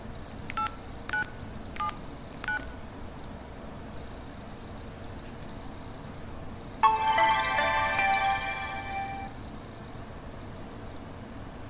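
Keypad tones from an LG Venus phone as a lock code is entered: four short evenly spaced beeps early on, then a longer, louder tone burst lasting a couple of seconds, over a steady background hiss, with no talking.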